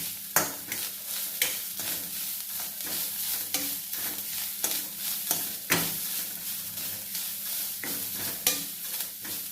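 Grated coconut is lightly roasted in a pan to dry off its moisture, with a faint sizzle under a steady series of spatula scrapes and stirring strokes against the pan, close up and with no voices.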